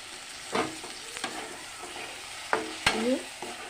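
Peas tossed into frying masala for a mutton curry, with a few sharp clatters of a spoon against the pan over a soft, steady sizzle, then scraping strokes as the mixture is stirred.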